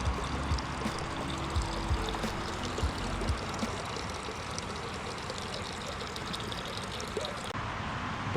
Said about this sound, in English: these old school water fountains you can drink out of